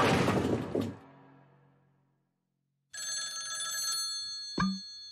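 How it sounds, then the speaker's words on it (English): In a Tom and Jerry cartoon, a crystal ball rings like an old telephone bell: a bright metallic ring after a clatter and a pause, ending with a thunk. "I think the crystal ball is ringing."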